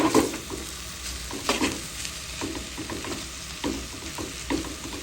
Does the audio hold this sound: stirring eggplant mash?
yes